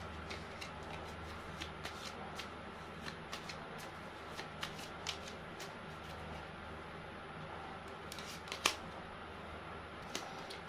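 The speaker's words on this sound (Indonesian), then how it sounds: "Kita kocok kartunya ya." Tarot cards shuffled by hand in a continuous soft riffling and sliding, with scattered sharper snaps and taps over a steady low background hum, close and fairly quiet, no talking.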